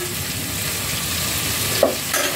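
Pork cooked for lechon paksiw sizzles in a pan with black pepper, a steady close hiss broken by a couple of brief scraping stirs.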